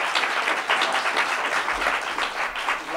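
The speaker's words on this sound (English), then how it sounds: "Let's give them another round of applause." Audience applause at a NAACP primary candidate forum in Peekskill, a steady mid-sized crowd clapping continuously for about three seconds with no talk over it.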